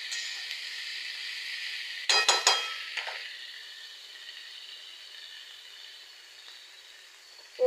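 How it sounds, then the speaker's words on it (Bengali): Soybean chunks fry with onion in a pan, giving a steady hiss. A cluster of metal utensil clinks and scrapes comes near the middle, then the sizzle continues alone. "এখন সয়াবিনটাকে একটু ভাজতে দেব।"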